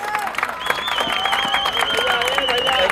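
Applause and crowd noise at a football tournament trophy ceremony in a national stadium, a sustained wash of clapping and cheering from a large audience, with a voice over a public address system talking across it.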